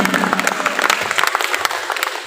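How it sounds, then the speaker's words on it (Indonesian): Teachers at a training workshop in a school building applaud together, a dense, steady burst of many hands clapping close by that fills the whole moment without pause. "kasih tepuk tangan dulu yang luar biasa buat kita semuanya"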